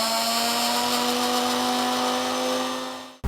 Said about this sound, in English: we have to now grind the coriander leaves. So in the same mixie jar, we'll put the coriander leaves and we'll put some green chilies